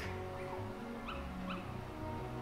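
Small yips and whimpering barks from a group of Dalmatian puppies in the Kingdom Hearts Final Mix video game, a few short high calls over a steady game music bed.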